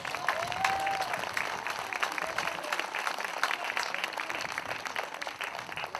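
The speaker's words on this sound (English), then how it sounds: "please give them all a round of applause" Steady, dense applause from an audience at a tribute concert, even and sustained across the whole stretch, fairly close with no talking.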